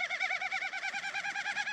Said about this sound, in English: And this is a Wilson snipe.